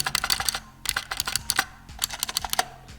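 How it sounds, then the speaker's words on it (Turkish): Bursts of fast, crisp typing on an Inca IKG-441 Empousa gaming keyboard held close to the microphone, clicky keystrokes from blue switches coming in quick clusters with short pauses between them. "Şöyle bir sesini göstereyim klavyenin."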